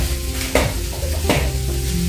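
Dried fish fries in a pan at home, a loud continuous sizzle with two sharp stirring scrapes, close up and with no talking.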